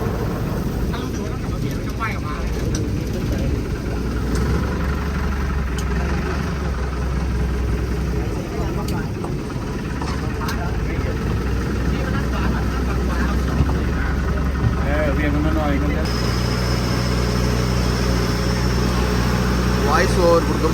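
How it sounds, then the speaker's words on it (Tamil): A boat engine runs fast and hard, a loud, steady droning roar that holds throughout and shifts in tone near the end, with someone talking over it. "இன்ஜின் பயங்கர வேகமாக அடிக்கிறாரு."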